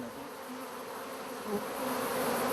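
Indigenous Chinese honeybees buzzing in a continuous, dense drone close by, growing slightly louder toward the end, with no voices.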